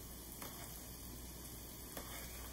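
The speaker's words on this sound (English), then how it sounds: "we're just going to saute our onions down to get them nice and tender" Onions sautéing in a skillet for a creamy potato soup, a steady low sizzle and crackle running throughout with no talk.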